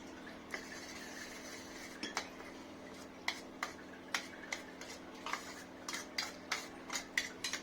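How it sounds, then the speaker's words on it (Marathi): A spoon stirs a mixture of besan, turmeric and water in a bowl, sharp clinks against the side arriving in a quickening, uneven rhythm over a faint low hum, close and alone. "हे मिश्रण चांगलं आता मिक्स करून घ्यायचंय आपण"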